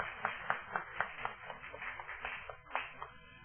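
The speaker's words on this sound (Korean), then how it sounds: "우리 좀 크게 한번 박수해 주시겠습니까?" A church congregation claps in scattered, uneven bursts, fairly faint and loose in rhythm, with no one speaking over it.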